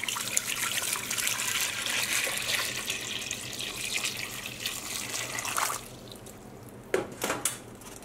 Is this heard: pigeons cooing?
no